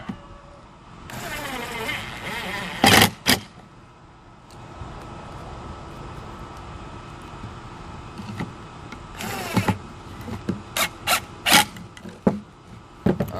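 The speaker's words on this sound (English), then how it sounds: "Then we'll go ahead and shoot our screws this way" Screws are driven into a scrap wood bench, with several short, loud bursts from a power driver separated by quieter handling noises and creaks of the wood.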